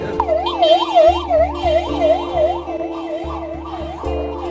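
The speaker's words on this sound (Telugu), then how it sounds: "ఇదిగోండి ఇప్పుడు ఒక అంబులెన్స్ పోయింది కదా" An ambulance siren wails loudly as the vehicle passes close by on a crowded pilgrimage walking route at Tiruvannamalai, its rising and falling tone sweeping over a low engine rumble.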